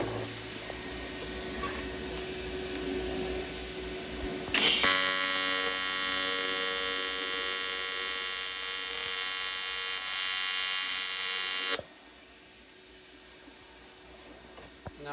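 A TIG welding machine with a faulty gas solenoid valve, used on thin aluminum, gives a loud, steady electrical buzz that starts abruptly, holds for about seven seconds, then cuts off against a quieter background.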